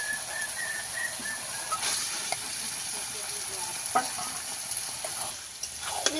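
Marinated chicken meets a hot, cooked-down spice paste for a Bengali chicken and potato curry, giving a steady sizzle and hiss with occasional stirring clicks throughout.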